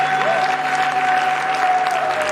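Congregation at a church gathering clapping and cheering, loud continuous applause with a sustained tone running beneath it.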